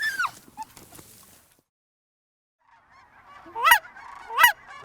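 Geese honking during a waterfowl hunt in West Texas, with faint calls early on, a silent gap, and then two loud, close, drawn-out honks near the end.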